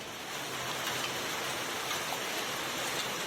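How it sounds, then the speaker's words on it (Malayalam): Heavy monsoon rain pours steadily in Malappuram, a dense, even hiss of falling water close around with no voices, holding constant from start to finish. "ഇവിടെ ഒരാഴ്ചയായിട്ട് മഴയൊക്കെ നിന്ന് തകർത്ത് പെയ്യാണ് കേട്ടോ."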